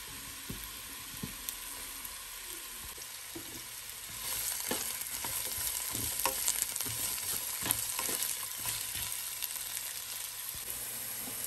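Finely chopped onions frying in hot oil in a pan, a continuous crackling sizzle that grows denser and louder partway through, with occasional stirring scrapes and no talking.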